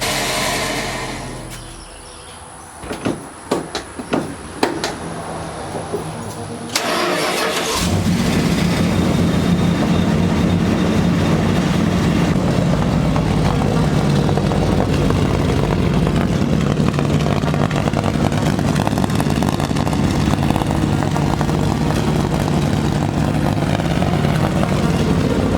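A Dodge D100 truck engine cranks with a few clicks and turnover bursts, then catches and settles into a loud, steady idle rumble that runs on close by.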